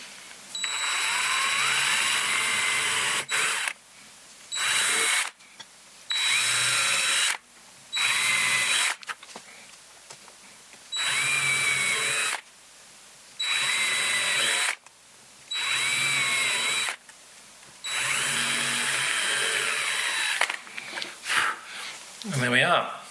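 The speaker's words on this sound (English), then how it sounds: "But let's get some holes drilled." A power drill bores holes into a DIY PRS-style guitar body in about nine short bursts, each a loud, close, high whir, separated by quiet gaps and ending with some handling noise.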